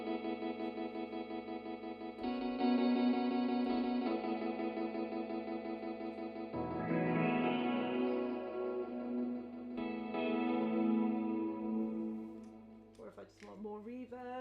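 An electric guitar is played through echo and chorus effect pedals. It gives sustained, shimmering chords with repeating echoes and swelling tones over about fourteen seconds, ending in a brief burst of scraping and noise.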